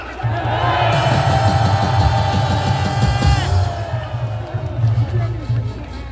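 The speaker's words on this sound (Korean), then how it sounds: "모든 분들 환호를 부탁드립니다" A large rally crowd cheers and shouts continuously, dense and loud throughout, with voices raised over the steady din and one strong rising whoop near the middle.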